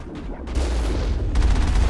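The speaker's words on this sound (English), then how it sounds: "Yeah, it does have a big boom cannon" A big boom cannon fires in the video game Mass Effect, giving heavy, booming blasts that rumble close and loud over a brief stretch without speech.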